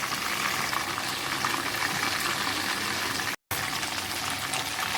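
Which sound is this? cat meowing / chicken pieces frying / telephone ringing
chicken pieces frying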